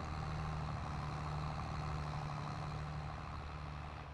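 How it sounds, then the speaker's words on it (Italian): A tractor engine in Farming Simulator 22 labours under load, giving a loud, steady, low drone that holds throughout and eases slightly near the end, with no talking. "Eh sì, sentite che il motore va giù."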